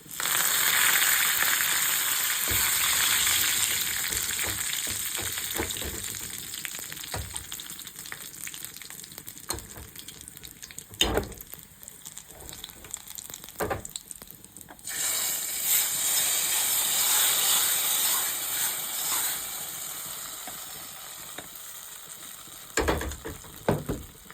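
Dried red chilies and curry leaves crackle and sizzle in hot oil for a tapioca curry, a steady bright frying hiss with a few sharper pops, close and continuous throughout.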